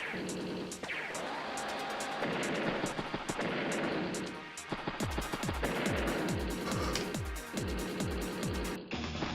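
Artillery shells and gunfire from the turn-based strategy game Advance Wars: Days of Ruin rumble in dense, continuous blasts over a full game soundtrack, loud and steady with repeated impacts layered throughout.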